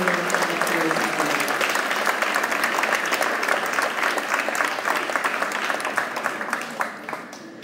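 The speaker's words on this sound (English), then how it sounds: "So let's just give her a round of applause." Sustained applause from an audience at a school prize-giving ceremony, dense steady clapping that holds at full strength, then thins slightly and tapers near the end.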